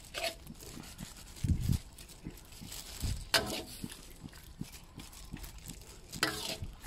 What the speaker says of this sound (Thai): เดี๋ยวเราก็จะผัดไปเรื่อยๆ